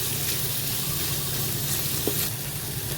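Shallots frying in a pan while being stirred, giving a steady close sizzle with faint scraping and one small clink partway through, and no talk.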